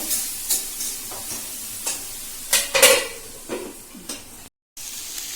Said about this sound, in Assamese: এইটো মই এতিয়া ঢাকি থৈ দিম আৰু মাজে মাজে এইটো লাৰি থাকিব লাগিব